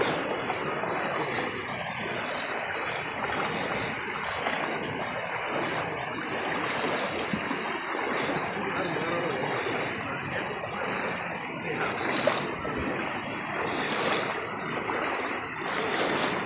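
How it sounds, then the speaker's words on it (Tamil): Steady broadband rush of a flowing river fills the whole stretch, continuous and fairly close, with faint clinks now and then and no talking. "இன்னைக்கு பாரு தண்ணி எங்கேருந்துலாம் பிச்சுட்டு வரும்னு"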